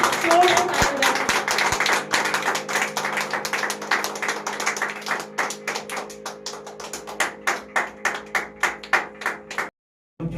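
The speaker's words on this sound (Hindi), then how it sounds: "कल जोर से परमेश्वर के वचन की ताली बजा के" A church congregation at a Sunday communion service claps rhythmically in steady unison, loud at first and thinning toward the end before stopping abruptly.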